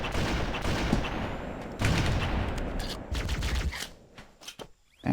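Heavy gunfire in the Halo CE beta, a dense rapid barrage of loud shots with a burst of explosive fire, fading to scattered cracks near the end.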